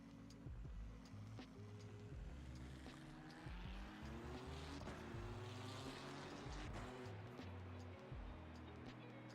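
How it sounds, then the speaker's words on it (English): A race car engine in a racing simulator game drones and revs continuously, with pitch climbing and falling through gear changes and occasional tire squeal, sustained at a fairly steady level. "I need to reduce the engine noise."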